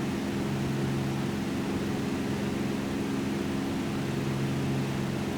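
Steady droning engine of a Lancair Legacy RG aircraft in X-Plane 11, a constant hum with a continuous wash of wind noise, holding at an even level throughout with no speech.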